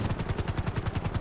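A helicopter in GTA 5 roleplay: rapid, steady rotor thumps chopping evenly throughout the short stretch, loud and close with no talk over it.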